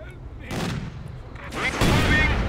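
Mortar and gunfire in the Company of Heroes 2 Stalingrad mission, bursts of explosive booms and crackling shots arriving in two loud waves, with a voice briefly talking over the battle.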